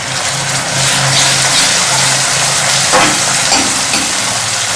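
Brinjal and masala frying in a pan, a loud, steady sizzle and crackle close up, with brief stirring scrapes near the end and no talking.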